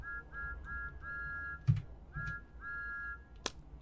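Thomas the Tank Engine's whistle in the Gmod game sounds as a string of short, even toots in a steady rhythm, with a few low thumps and clicks in the background and no talking.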